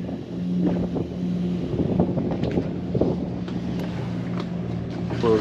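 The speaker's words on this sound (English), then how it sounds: "Take us for a cruise around Biscayne Bay." A Concept 44 Sport Cabin motorboat cruising on Biscayne Bay: a steady low engine drone with wind buffeting the microphone and water rushing throughout, fairly close and continuous, with faint voices underneath.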